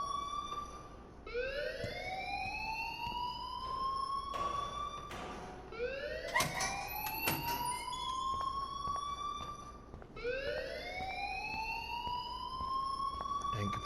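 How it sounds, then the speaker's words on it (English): A school alarm in the video game Life is Strange sounds as a loud rising electronic whoop that repeats in long sweeps, with a few sharp clanks between the cycles and no voices. "please turn off that alarm since that's your job"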